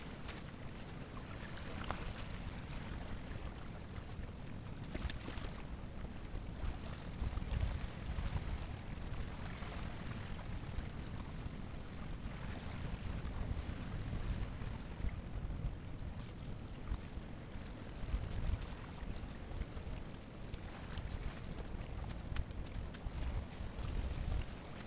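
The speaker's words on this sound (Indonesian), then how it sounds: "Di sini ombaknya besar, guys." Big ocean waves at a hidden beach, heard as a continuous low rumbling wash of surf mixed with wind buffeting the microphone, steady and fairly loud throughout.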